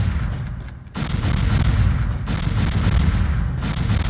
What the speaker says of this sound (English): Okay, morph ball next. Go ahead and drop some bombs.